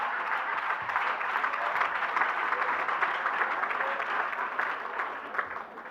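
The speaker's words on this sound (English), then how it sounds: "Thank you to the few women that are clapping." Scattered applause from a few women in the audience at an MLK Day speech, a moderate patter of clapping that holds steady for several seconds without talk.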